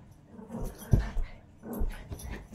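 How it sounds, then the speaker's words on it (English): Indoor dogs playing and wrestling with each other, giving soft low growls, a few sharp yips and whimpers in short bursts, fairly quiet and close, with no talking. "Dogs think they got to be playing around and wrestling."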